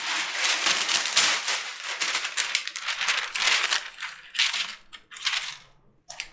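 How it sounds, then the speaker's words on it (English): Crisp crackling and tearing of parchment paper in repeated bursts, close and fairly loud, with short pauses between pieces. "we get parchment paper, and we break it in"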